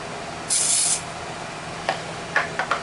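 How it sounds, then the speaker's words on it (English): A quick spritz of glue accelerator spray on a wood turning blank with a purple heart inlay: one short, sharp hiss of about half a second, then a few faint taps and clicks. "Quick spritz. Anytime you use the accelerator, you don't have to put much on."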